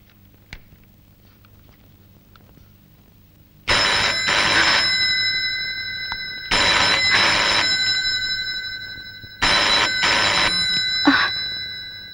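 A telephone rings in a Kannada film scene, sounding three loud, long bursts separated by short pauses, with only faint room noise between rings and no talk.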